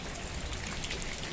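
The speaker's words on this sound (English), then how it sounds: "So it started raining." Steady rain falling, a dense hiss of drops with a faint patter on surfaces, constant and fairly close.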